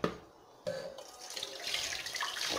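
Water pours steadily into a container, a continuous splashing rush that begins after a brief thump and builds slightly, being measured out as 2.5 litres for a fabric-softener solution.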